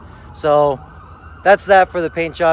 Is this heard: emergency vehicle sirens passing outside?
yes